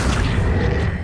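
A Hogwarts Legacy Accio spell fills the moment with a loud, dense, booming rush that holds steady at close range without pause.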